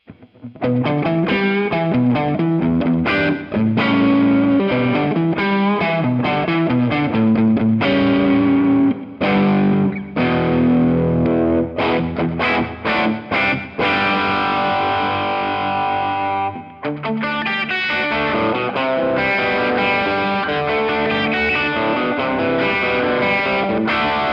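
Distorted electric guitar playing chords and riffs through a Rocknroll Amps Duoplex 2EL84 amp, with a washy reverb tail, loud and continuous.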